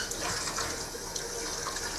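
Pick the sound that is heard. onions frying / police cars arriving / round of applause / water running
water running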